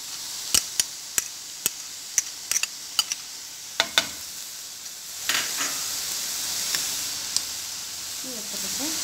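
Colored peppers sizzle in a pan with minced meat for savory msemen, a run of sharp utensil taps and scrapes over a steady frying hiss that swells louder in the second half.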